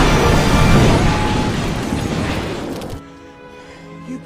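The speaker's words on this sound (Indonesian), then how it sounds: "seketika pesawat Deke meledak" A plane bursts into an explosion just as it touches down on landing, a loud roaring boom with crashing debris that fades for about three seconds before cutting to a quiet scene.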